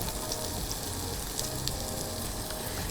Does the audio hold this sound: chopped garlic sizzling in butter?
yes